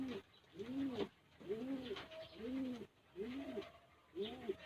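Pigeons in a breeder's cage coo softly and repeatedly, five or six rounded rising-falling calls in an even rhythm, close but faint against quiet background.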